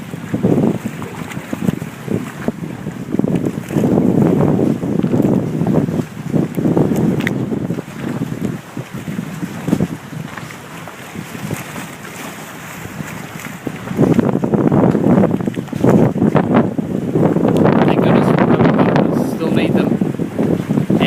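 Gale-force westerly wind buffets a moored boat's deck, roaring in loud gusts that rise and fade, with a voice talking over the blustery rumble.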